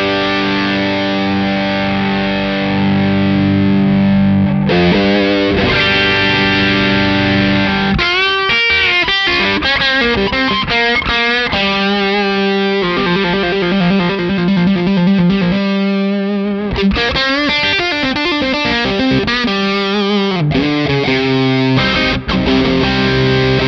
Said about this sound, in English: let's get a scoop sound just by increasing the bass and treble. And here we might want to engage that warm switch